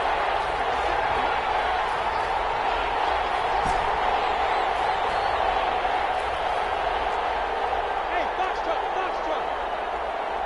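A stadium crowd in the Madden 21 football video game roars steadily at a big third-down play, a constant wash of cheering under the game's commentary.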